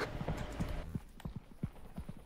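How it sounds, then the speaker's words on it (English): Footsteps on metal in the video game Content Warning, a run of loud, clanking, hoof-like steps with an irregular rhythm, close and alone. "No, it's the footsteps on the metal."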